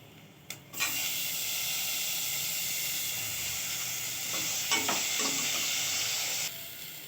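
Steady loud sizzling of chopped tomatoes frying in hot oil in a single pot, with a couple of clinks from stirring, continuing for several seconds before cutting off.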